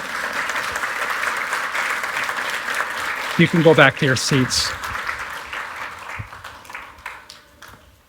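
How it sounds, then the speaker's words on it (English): A speaker talks over steady, moderate applause from a church audience for volunteers, with a few sharper handling knocks partway through before the clapping fades out. "Give my volunteers a round of applause."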